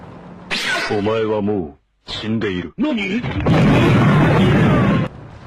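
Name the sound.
tank gunfire and explosions in World of Tanks Blitz video game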